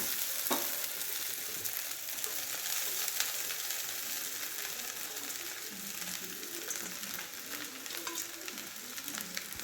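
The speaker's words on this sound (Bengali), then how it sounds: "সেই চিড়া আমরা আস্তে আস্তে দেবো আর মিশাতে থাকবো" Soaked flattened rice (chira) being stirred in a hot pan, a steady close sizzle and fry hiss with soft scraping of the spoon, continuous and even throughout with no talking.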